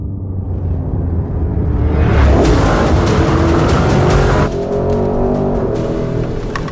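A Porsche Cayenne Turbo GT is driven hard around a circle, giving a loud continuous engine roar that builds, then drops back to a steady drone, with tyre noise underneath.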